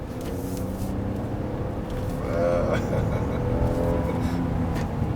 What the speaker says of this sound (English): And now let me just give it some gas.